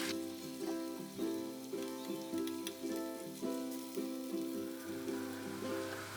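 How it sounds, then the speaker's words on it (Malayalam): Chicken fries in a pan with a steady, quiet sizzle and faint rhythmic crackling, alone with no talk. "അടുത്ത സൈഡും കൂടി നമുക്ക് തിരിച്ചിട്ട് കൊടുത്തിട്ട് ഫ്രൈ ചെയ്തെടുക്കാം"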